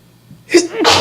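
A single sharp sneeze, close and loud, with a quick breathy intake just before the explosive burst.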